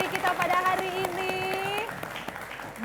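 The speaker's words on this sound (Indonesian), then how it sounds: "kasih tepuk tangan dong untuk 3 Dewan Juri kita pada hari ini" Audience applause for three judges at a televised school quiz competition, a soft wash of clapping underneath a voice speaking over it.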